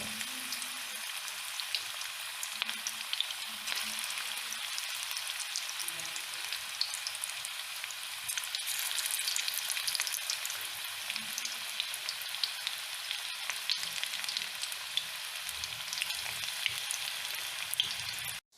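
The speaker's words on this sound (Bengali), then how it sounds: "এগুলো তেলে দিয়ে দেব। সেটার আমি পকোড়া তৈরি করব।" Palak pakoras fry in hot oil with a steady, dense sizzle and crackle that sounds like rain, continuous and even throughout with faint low stirring sounds beneath.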